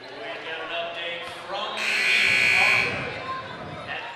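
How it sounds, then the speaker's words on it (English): A long, loud buzzer sounds in a gym at a high school girls' basketball game, cutting through crowd chatter and talk before and after it. "And there's the buzzer"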